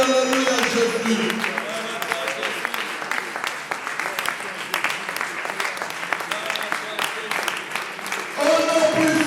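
A church congregation clapping loudly, a continuous crowd-wide applause running from start to end, with voices and singing tones mixed in.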